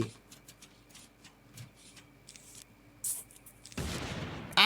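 Cartoonish explosions and popping shots from the Plants vs Zombies Fusion game, scattered light ticks and bursts building to a loud, sustained blast near the end, with no talking.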